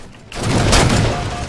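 Dense gunfire from a Halo 4 team deathmatch, a loud continuous spray of shots and bursts filling the whole moment with no gaps.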